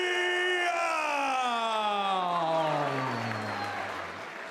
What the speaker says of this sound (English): make some noise for the little dragon, Gordon Reale.